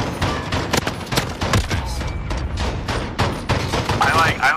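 Rapid bursts of gunfire from the Modern Warfare video game, loud and repeated in quick volleys, with a player talking over the shooting throughout.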